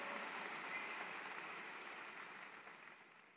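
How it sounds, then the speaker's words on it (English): Audience applause at an online graduation ceremony for healthcare, liberal arts, nursing and social sciences, a steady wash of many hands clapping that holds fairly even and slowly fades over a few seconds, with no voices on top. "I heard the applause start."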